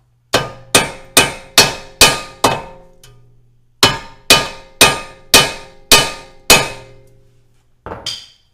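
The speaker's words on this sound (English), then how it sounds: "bang down on the bolt with like a hammer first" Repeated ringing metallic hammer strikes on a bolt during a Porsche Cayman 987 camber plate install, in two rhythmic runs of six blows each, loud and close, followed by one lighter tap.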